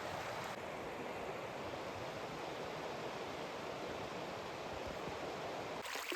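A desert stream rushes and burbles steadily, a soft continuous flowing wash heard fairly close, with no voices.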